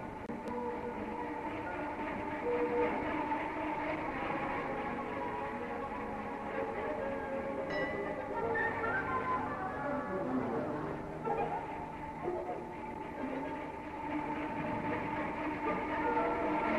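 An electric tram rumbles past on city tracks, a long continuous rolling roar with rail squeals and clanks, fairly loud and close throughout.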